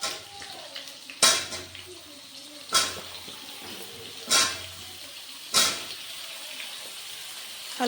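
Potatoes frying in a pan with five-spice tempering and dried red chillies, a soft continuous sizzle broken by four sharp scraping stirs against the pan.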